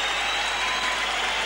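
A crowd at a kickboxing event gives a steady, dense round of clapping for Melbourne fighter Stan Longinidis, an even wash of applause with no pauses.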